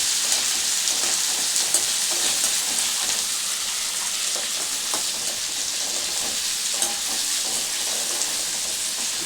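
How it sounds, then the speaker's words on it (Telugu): Onion and green chillies frying in a pan, a steady loud sizzle throughout with light scraping stirs, no talking. "ఉల్లిగడ్డ వేసుకొని కొంచెం వేగిన తర్వాత పచ్చిమిర్చి కూడా వేసుకున్నాం."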